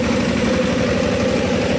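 A tractor engine runs with a steady, close, low rumbling drone and an even mechanical throb, with no talking over it.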